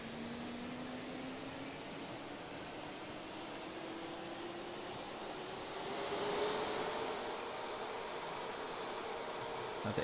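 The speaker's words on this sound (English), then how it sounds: "we're gonna start the APU." An Mi-8 helicopter's APU spools up in the DCS flight simulator, a steady broadband turbine whoosh with a faint rising whine that swells briefly midway, with no talk.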